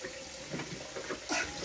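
Water is poured into a cooking pot with chiles, a steady, fairly soft splashing rush with a brief louder gush near the end, heard alone.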